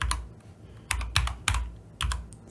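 Fingers type on a computer keyboard close by, giving a short run of crisp, uneven key clicks with a few louder strikes and brief pauses between them.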